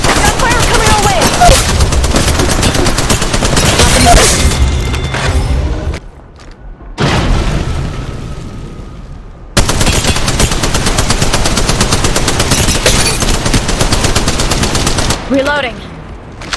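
Incoming enemy gunfire in the shooter game Apex Legends Mobile, loud sustained automatic bursts that break off briefly and then resume, with no talking.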